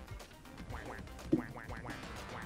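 A cartoon duck quacks repeatedly in the video game Duck Game, about six short quacks in quick succession, fairly faint against background game noise.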